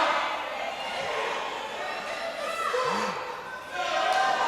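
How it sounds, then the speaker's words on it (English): A wrestling crowd at the Monroe National Guard Armory chants and cheers, a steady, roomy rumble of many voices that swells near the end, with a few scattered shouts standing out. "We got some chants out there."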